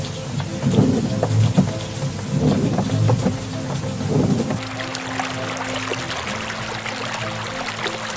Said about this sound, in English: while the storm continues to rage